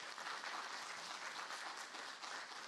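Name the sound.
audience applause for a speaker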